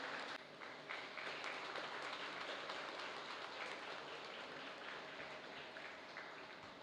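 Steady applause from an audience at a Tamil magazine function as a guest is welcomed to the stage, a faint, continuous wash of clapping with no voices.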